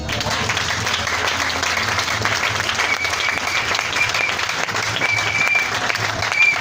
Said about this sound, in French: On acclame ici.